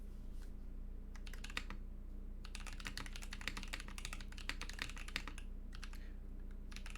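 Fast bursts of clacky typing come from a custom Poly Salamander TKL keyboard with Holy Panda switches, PBT keycaps and a PBT plate, close up, with brief pauses between runs of keystrokes.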